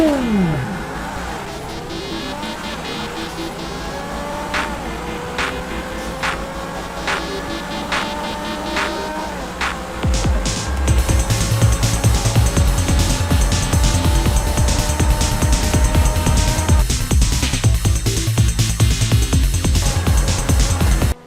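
Two cars, a Grotti X80 and an Adder, drag race in a video game: engines rev hard through rising gear pulls, upshifts marked by sharp breaks, then a louder, denser roar as the run continues, with no talk.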